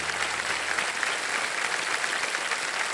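Studio audience on KBC quiz show applauding a contestant, a steady, even wash of many clapping hands, continuous and moderately distant, with no voices.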